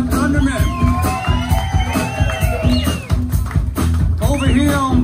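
Audience at a live band show applauding and cheering for the guitar player: dense clapping with whoops and shouts from a close crowd, continuous and lively throughout.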